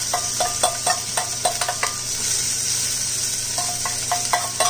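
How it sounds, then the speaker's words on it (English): Garlic, onion and scotch bonnet pepper sizzle in coconut oil in a pan, a loud steady frying hiss with clusters of spoon-on-pan clinks near the start and end. "let's go ahead and drop our aromatics into the pan"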